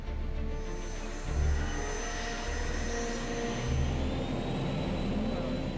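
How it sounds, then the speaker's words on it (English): A LearJet 62 accelerates down the runway for takeoff at full throttle, giving a steady, broad jet roar with a faint high whine on top, sustained and even with slight swells in the low rumble. "The aircraft accelerates to over 250 kilometers per hour for its first takeoff."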